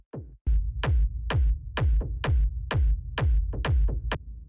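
A steady, driving run of thin bandpassed techno kick hits, about two per second with a couple of quieter ghost hits early and near the end, each a punchy click with a short low tail, loud and alone.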